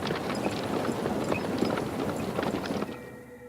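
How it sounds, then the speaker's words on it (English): A horse's hooves gallop steadily in a rapid, continuous clip-clop, moderately close, as the horse is spurred on pulling a wedding train through a dark forest, fading slightly at the end. "You order Fyodor to spur on the horse."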